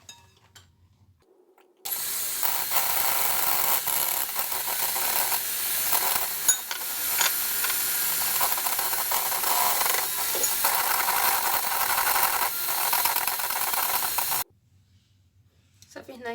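An electric mixer beats 80 grams of egg whites for French meringue, a steady whirring hum with scraping of the beaters against the bowl, starting abruptly and stopping just as suddenly after about thirteen seconds.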